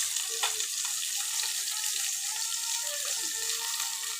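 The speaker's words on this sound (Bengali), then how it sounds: "আজ রান্না হবে কই মাছ আলু দিয়ে সরিষা বাটা দিয়ে তার জন্যে মাছগুলো প্রথমে ভেজে নিচ্ছি" Koi fish fry in hot oil in a pan, giving a steady, fairly quiet hiss and crackle that runs evenly throughout with no voices.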